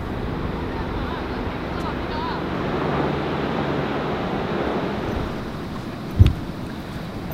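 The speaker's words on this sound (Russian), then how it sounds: "Отличные волны." Ocean waves rolling and breaking along an Australian beach, a steady broad roar mixed with wind buffeting the microphone, ending in a short louder thump.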